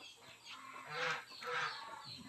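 Chickens clucking on a farm, with several hens calling in overlapping bursts that swell twice to louder peaks, fairly close, over a steady background of farmyard noise.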